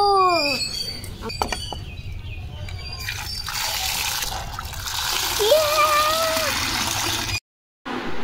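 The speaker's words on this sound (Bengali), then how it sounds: "পেঁপেগুলো সব কাটা হয়ে গেছে। এবার আমরা এটা ধুয়ে নেব।" Cut papaya pieces are washed in water, a soft trickling and sloshing near the listener, with chirping bird-like tones and brief voice sounds early on, ending in a short moment of silence.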